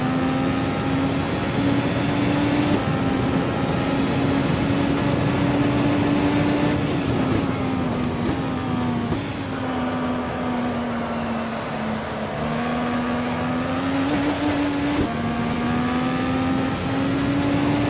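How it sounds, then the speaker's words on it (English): An IndyCar IR18 engine in the racing sim Automobilista drones steadily at high revs on the bumpy Jacarepagua oval in Rio, its pitch wavering and dipping as the car jolts, loud and continuous throughout. "You can just hear how bumpy the track is when I'm trying to put the throttle down"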